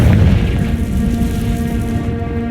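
Booming blast from the Confringo fire spell in the video game Hogwarts Legacy, a loud, heavy low-end explosion that rumbles for about two seconds and fades without any talking.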